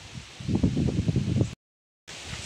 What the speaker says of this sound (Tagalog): Medyo mahangin, malakas yung hangin oh. Yung mga niyog nagsayaw-sayaw dahil sa hangin.